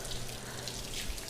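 Water running steadily from a tap while hands are washed, a continuous splashing hiss at close range, with no clear speech.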